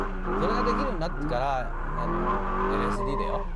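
A drifting car is turned by pulling the e-brake, its tires squealing in wavering bursts over a steady engine drone, close and moderately loud, with someone speaking throughout.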